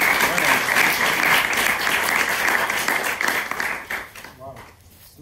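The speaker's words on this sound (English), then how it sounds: "please give a round of applause to Professor Alain." An audience applauds Professor Alain Goriely at a mathematics lecture, with loud, dense clapping that tapers off and fades out near the end; some voices mix into it.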